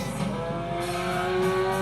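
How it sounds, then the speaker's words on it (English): An Alfa 155 touring car races a night lap around Rome in Gran Turismo 2, its engine holding a steady, loud high-pitched drone with layered harmonics and faint tire noise throughout. "you're doing one lap around Rome Night in the Alpha 155 touring car"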